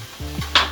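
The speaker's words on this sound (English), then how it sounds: "Time to add all of that delightful garlic. Stir that in." A spoon stirs garlic into pumpkin and goat cheese soup in a pot, giving a short soft scrape with a faint simmering sizzle underneath and a brief brighter clink near the end.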